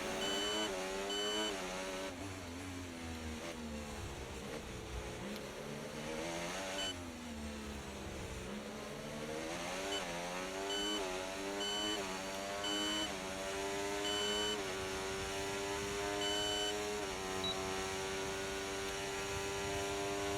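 Race cars in a sim racing video game at the Miami round, engines whining and rising and falling in pitch as they shift gears, a steady moderately loud drone with no voices.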